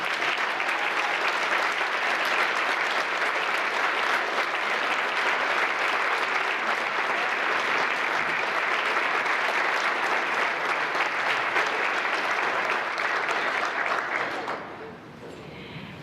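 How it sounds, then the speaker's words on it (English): An audience at a university scholarship reception gives sustained, loud applause welcoming a guest to the stage, a dense steady clapping that continues for about fourteen seconds before fading quickly. "please help me welcome to the stage with a huge Cougar applause"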